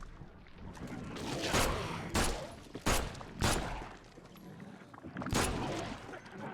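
Loud gunshots in The Sinking City, about six sharp blasts spaced irregularly over a rumbling, noisy game background.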